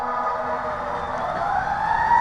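An ambulance siren wails steadily as the vehicle runs past, its rising, sustained tone loud and continuous throughout with road traffic rumbling underneath.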